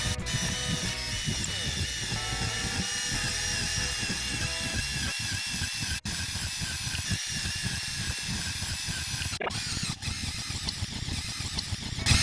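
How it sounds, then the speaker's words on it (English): A power drill whines steadily and loudly as it bores around a circle to cut a hole in a wall, with a hissy grinding texture and a few sharp clicks, no talk. "Then I used a drill just to drill all the way around."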